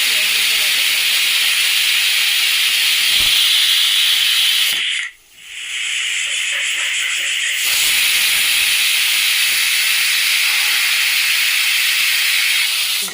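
A pressure cooker lid lets off steam while cooking tomato bath, a loud, steady hiss that drops out briefly midway, then resumes at full strength until the end.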